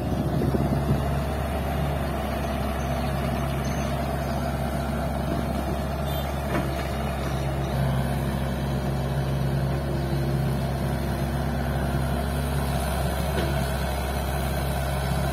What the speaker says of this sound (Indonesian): Dump truk Isuzu teman-teman dan eskavator Hitachi sedang beroperasi.